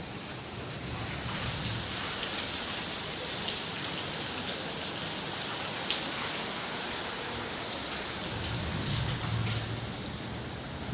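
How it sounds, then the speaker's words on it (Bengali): Heavy rain pours down steadily outdoors at night, a constant hiss with occasional louder drops and a faint low rumble underneath, no talking. "বাইরে হচ্ছে প্রচণ্ড বৃষ্টি চলো তোমাদের দেখাই"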